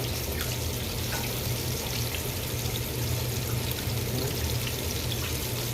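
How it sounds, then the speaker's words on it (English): Water runs steadily from a tap as a cutting board is rinsed before fish is laid on it, a continuous close pouring and splashing with no voices. "Wash off my cutting board."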